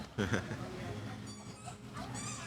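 During a social evaluation session, a dog gives a brief whimpering yip near the start, then fainter whines, with people talking softly close by.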